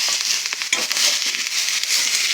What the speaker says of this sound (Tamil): அப்புறமா நாங்கள் க்ளீன் பண்ணி வச்சுக்கிற நண்டை போடணும். போட்டு நல்லா வதக்கணும்.